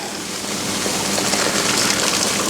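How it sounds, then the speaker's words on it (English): Hot water pours from a heavy, well-filled tea kettle in a steady, broadband rushing splash, close and continuous without speech. "That means it is time to pour the hot water in here."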